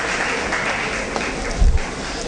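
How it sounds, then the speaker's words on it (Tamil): A church congregation claps together during a Tamil Christian sermon, a continuous, fairly even patter of many hands filling the hall. "கைத்தட்டி உற்சாகப்படுத்துங்க."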